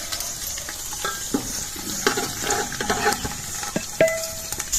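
Whole cumin, black pepper, cloves, black cardamom, bay leaf, cinnamon and star anise sizzle in hot ghee in a pot for haleem, with steady frying hiss broken by several sharp stirring scrapes and clinks, close and clear with no talk.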